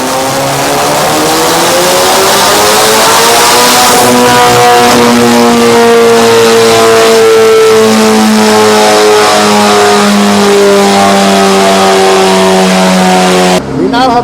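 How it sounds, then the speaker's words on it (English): A Honda K20 race engine revs hard and loud on a dyno, its pitch climbing then holding at a high steady whine before abruptly cutting off near the end. "we are putting this through monster pace on the dyno"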